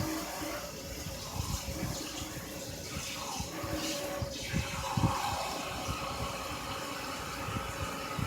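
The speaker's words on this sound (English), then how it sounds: "So we'll put a little bit more water in there." Water poured into a pot on the stove while an herbal sleep-aid brew is prepared, a steady splashing trickle that sounds like a running tap and stays fairly even for several seconds, close and moderately loud.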